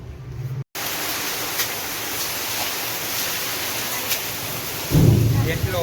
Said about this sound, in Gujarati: કેટલો વરસાદ આવે.